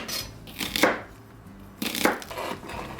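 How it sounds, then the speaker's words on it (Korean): Vegetables chopped with a knife for a Korean witch soup with baked beans, two bursts of quick cutting strokes with a pause in between, close and fairly loud, no voices. "자, 지금부터 이 야채들을 썰어서 냄비에 넣을게요"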